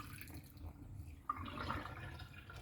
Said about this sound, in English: Put more water, man. Water. Oh yeah, rinse it off.